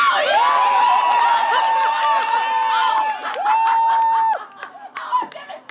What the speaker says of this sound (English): on the count of three, we are going to cheer and scream and laugh very loud